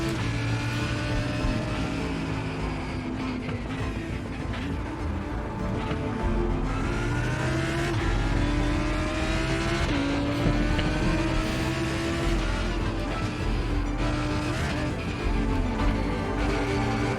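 A race car engine in iRacing revving and downshifting through a corner, its steady droning pitch climbing and dropping in repeated blips, heard alone at moderate level.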